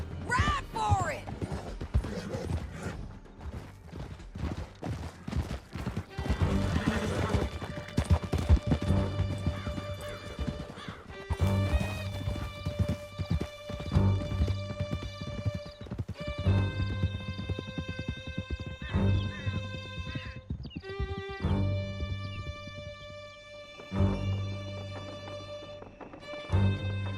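A horse galloping in the western game Red Dead Redemption 2, hooves clip-clopping in a quick rhythm with occasional whinnies, carried along under prominent background music and some voices.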